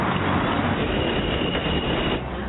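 A subway train runs with a steady, loud rumble of wheels and carriage noise, continuous throughout and easing slightly near the end.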